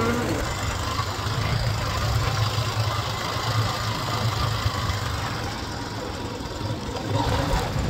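A motorbike engine runs steadily nearby in a village setting, a low, even rumble with a faint knocking texture that holds throughout without clear revving.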